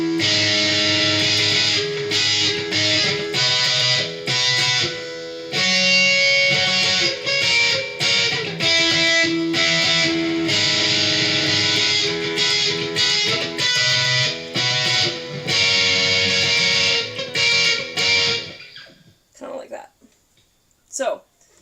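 An acoustic guitar strums the chords of a song's intro and chorus in rhythmic patterns, played close and loud for most of the passage, then stops and leaves a few quiet handling noises at the end.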